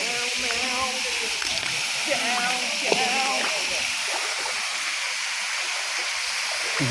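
Thanguain waterfall roars as a constant broadband rush of falling water, with voices talking intermittently over it in the first half.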